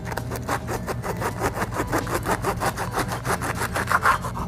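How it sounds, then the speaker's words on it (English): A sharp serrated knife saws through the top of an artichoke in a steady, rapid back-and-forth rasp, close and fairly loud, with no talking. "take your sharp serrated knife, and you're going to cut off the top of your artichoke"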